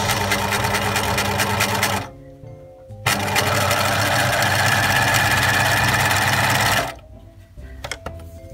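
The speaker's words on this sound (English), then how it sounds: "I'm just going to continue doing my zigzag stitch right on the edge." A sewing machine runs a zigzag stitch along a fabric edge while making a drawstring bag, a steady close mechanical whir that stops briefly, restarts for several seconds, then cuts off.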